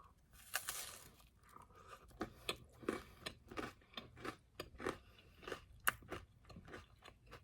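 A crisp snack being eaten up close, with rapid irregular crunches and chewing bites, quiet and intimate, with no talking.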